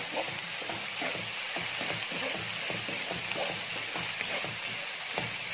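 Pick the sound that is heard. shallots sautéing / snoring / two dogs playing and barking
shallots sautéing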